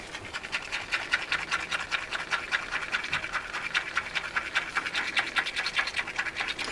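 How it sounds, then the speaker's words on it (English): A stick stirs resin mixed with white pigment in a cup, giving a continuous rapid scraping and rubbing rhythm, close and steady with no talking. "I'll give it a good stir."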